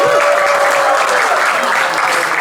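A stand-up comedy club audience claps and cheers for a comedian taking the stage, dense sustained applause filling the room at close, even loudness throughout.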